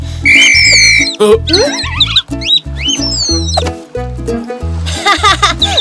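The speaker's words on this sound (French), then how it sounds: "un vrai sifflet de sauveteur" A short, shrill lifeguard whistle blast sounds at the start, followed by bouncy cartoonish music with squeaky effects.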